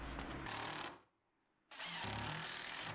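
A power driver sinks screws while casters are fitted to a workbench, two loud sustained whirring bursts close by separated by a short quiet gap.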